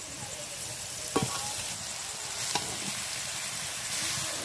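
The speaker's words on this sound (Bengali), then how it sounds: "চাউমিনটাকে ভালোভাবে ভেজে নেব" Boiled chowmein noodles fried together with fried potatoes in a pan make a constant close sizzle, broken by two sharp spatula scrapes and clacks against the pan and softer stirring noises, with no voices.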